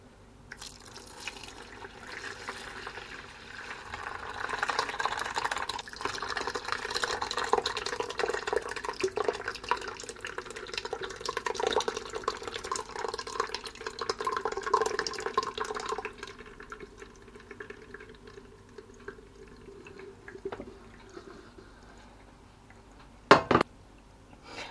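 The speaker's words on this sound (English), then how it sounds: "I have got a cheesecloth over a colander over a bowl, and I'm going to pour this in" Ricotta curds and whey poured from a pot through cheesecloth into a colander set over a bowl: a long steady splashing pour that tapers into drips, ending with a brief sharp clank of cookware.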